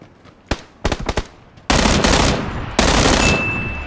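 Gunfire in the video game PUBG: a single sharp shot, then a quick cluster of several shots, then a sustained loud burst of automatic fire that stays close and dense until the end.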